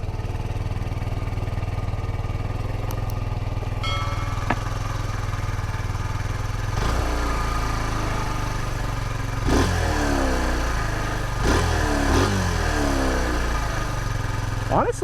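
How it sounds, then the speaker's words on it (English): A 2020 Kawasaki Z125 Pro 125cc motorcycle starts up and idles with a steady low exhaust burble, then gives several sharp throttle revs that rise and fall, close and loud. "I'm going to start it up for you so you can hear how the exhaust sounds."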